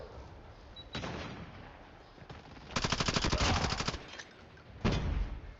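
Bursts of automatic gunfire from the Call of Duty video game: a short volley, then a dense rapid burst lasting over a second, and a final sharp burst, all loud and close.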